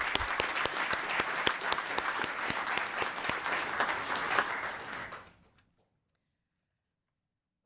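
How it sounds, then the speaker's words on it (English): A crowd at a town council meeting claps steadily for about five seconds, then the applause fades out into silence. "I think we could do a round of applause now."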